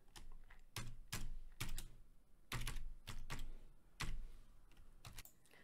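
Password being typed on a computer keyboard: several quick bursts of key clicks in irregular clusters, close and fairly quiet, with short pauses between groups and no voices.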